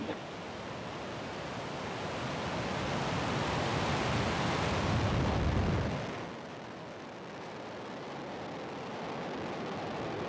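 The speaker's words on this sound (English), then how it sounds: "Ignition. Liftoff of the Falcon 9." SpaceX Falcon 9 rocket lifting off on the NROL-57 mission, a broad rumbling roar that swells for several seconds and then fades into a lower, steady distant rumble.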